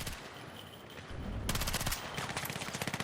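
Rapid MP7 submachine gun fire in Battlefield 6 Domination mode, a dense burst of automatic shots starting about halfway through and continuing in a fast, evenly spaced rhythm, loud and close over a game background.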